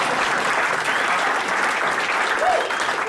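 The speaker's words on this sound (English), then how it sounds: "Clap for that." Steady, dense audience applause fills a character showcase performance space throughout, with little change in loudness.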